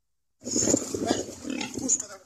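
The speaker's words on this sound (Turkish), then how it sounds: "Sosyal medyaya yansıyan görüntülerde birçok domuzun sellerden korunmak için çatıya çıktığı görüldü" Pigs stranded on a roof during floods, grunting and squealing in a continuous noisy jumble for about two seconds, with a voice mixed in.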